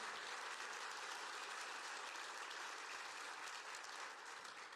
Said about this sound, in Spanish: Le da un aplauso a la palabra del Señor